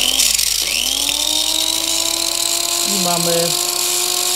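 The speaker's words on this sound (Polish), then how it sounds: "podłączymy może mała szlifierka kątowa" A small angle grinder runs from an ALLPOWERS R2500 portable power station, its steady high motor whine loud and close and holding level throughout, with someone speaking over it.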